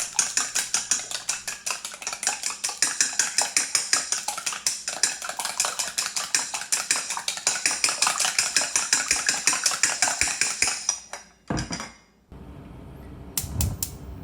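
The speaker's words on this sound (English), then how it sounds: "Add a teaspoon of salt into the egg and mix well." Raw eggs and salt whisked briskly in a bowl, a steady fast rhythm of utensil clicks against the sides, close and loud, stopping near the end with a couple of brief knocks.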